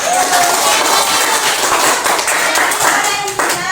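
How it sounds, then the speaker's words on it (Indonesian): A classroom of students claps hands together after group awards are announced, brisk close clapping from a modest group that continues steadily with slight unevenness. "Beri tepuk tangan semua"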